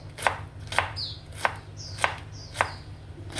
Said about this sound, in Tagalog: Slice lang natin to ng maliliit.